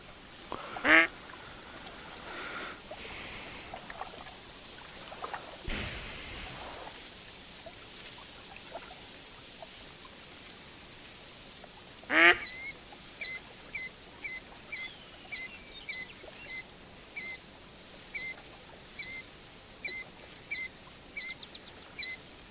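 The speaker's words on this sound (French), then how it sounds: "Canard." Ducks quack during a duck hunt: a few isolated calls early on, then a steady run of about a dozen short, evenly spaced quacks close by over quiet outdoor background.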